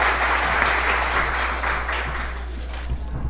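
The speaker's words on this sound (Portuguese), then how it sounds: "Uma salva de palmas para o nosso colega aqui" An audience at a workplace electrical safety talk applauds a speaker, a steady dense wash of clapping hands filling the room, with a low steady hum underneath.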